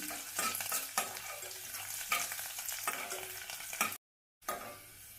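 Cumin, curry leaves and finely chopped garlic roast in oil for a horse gram palya, sizzling quietly and steadily close by while a spatula scrapes and stirs in periodic strokes; a short silent gap precedes the resumed frying.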